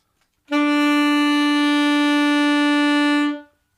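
A saxophone played with a round, O-shaped embouchure, lips around the reed and mouthpiece, holds one loud, full, steady note for about three seconds, starting cleanly and fading at the end, with no talking.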